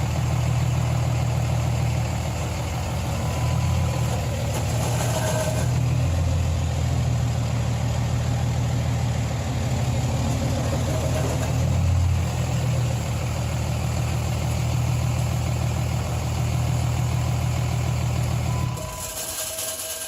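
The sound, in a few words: engine idling with faulty clutch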